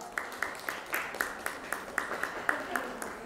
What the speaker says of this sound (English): Keep the applause going for our next speaker